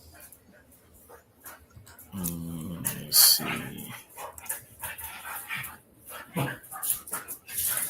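A dog whimpers and barks repeatedly in short, uneven bursts close by, mixed with a person talking briefly.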